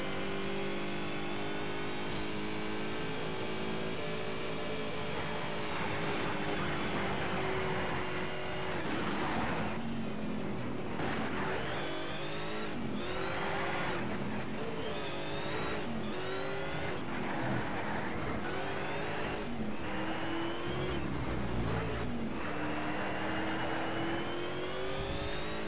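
Race car engine from the Need for Speed Shift racing game, revving loudly and continuously with rising and falling gear changes, tire squeal and passing cars, dense and close throughout with no talking.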